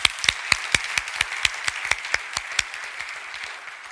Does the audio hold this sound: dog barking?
no